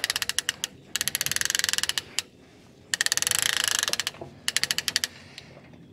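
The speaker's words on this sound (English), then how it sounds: "I'm using two ratchet straps here, and all I do is start bringing it up." A rope ratchet strap pulling a load up a ramp: bursts of rapid, rhythmic ratchet clicking, close and fairly loud, separated by short pauses between pulls.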